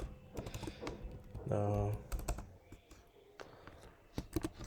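Python code typed on a computer keyboard, with quick irregular key clicks close by and a brief spoken hesitation partway through.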